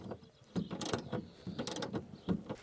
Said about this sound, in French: vous prenez votre fidèle cliquet et vous cliquez tout simplement